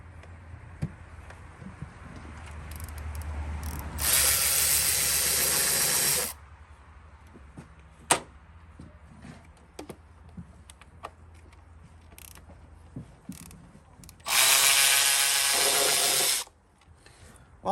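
Bolts being removed from a 2005 Freightliner Sprinter engine with a power tool, two long loud hissing bursts of a few seconds each, separated by quieter clicks and small mechanical handling noises.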